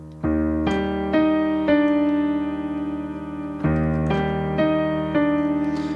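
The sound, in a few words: piano melody in octaves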